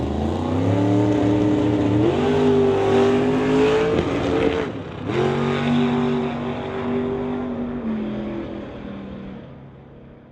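Drag racing cars roar down the strip at a Doorwarz drag racing test session, a loud sustained engine howl with rising pitch, a brief break, then a fading drone as the cars coast off.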